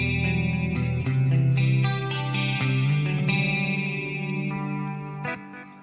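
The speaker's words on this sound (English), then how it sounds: "It's a really long reverb, as you can hear." Electric guitar played clean through a very long Stratocumulus reverb effect, sustained chords blooming into a wide, washy tail that smears the notes together.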